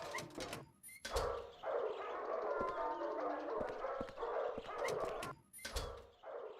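Low growling from demonic creatures in pits below, from the horror game Silent Hill 4, a steady rumbling snarl with bark-like bursts running loudly through the clip alongside other eerie game noise.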